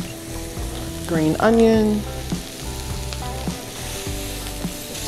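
Vegetables for barbecue shrimp, finished with fresh parsley and green onion, sizzle loudly in a pan while being stirred, with a person talking over the crackling throughout.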